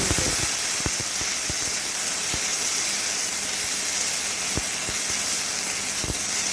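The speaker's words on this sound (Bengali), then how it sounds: "চালটাকে একটু ভালো করে ভেজে" Washed Gobindobhog rice fries in a little hot oil in a wok, giving a steady, fairly loud sizzling hiss broken by scattered sharp crackles and pops, with no talking.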